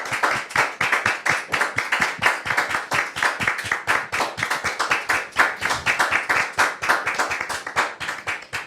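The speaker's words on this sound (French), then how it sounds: "Très cher public, merci de recevoir Dame Josiane sous vos applaudissements" An audience on a French TV show claps rhythmically to welcome a guest, steady and fairly close, with no talk over it.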